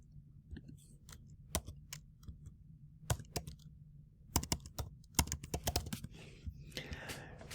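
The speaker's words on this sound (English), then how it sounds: "Oops, I have to type here." Quiet, irregular clicks of typing on a computer keyboard, in short bursts with pauses, over a faint low hum.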